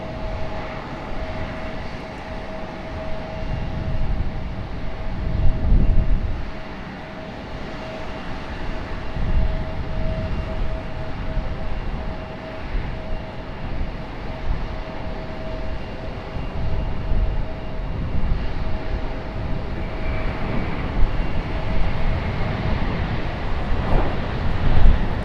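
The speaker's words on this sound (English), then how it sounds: "Late liftoff for the E1 or A321." An Embraer E1 or Airbus A321 jet lifts off late from Raleigh-Durham International Airport, giving a steady, distant broadband engine roar that holds for the whole stretch with slight swells and no talk.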